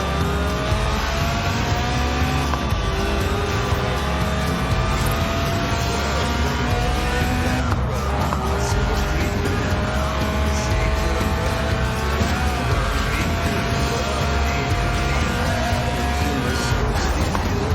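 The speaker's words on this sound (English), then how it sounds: "Right then, the Lotus Elise, a 90s classic based on the age-old roadster recipe." Lotus Elise Sport 190 mid-engine roadster driving in Forza Horizon 4, a loud steady engine drone with shifting revs and tire noise running continuously throughout, no talk.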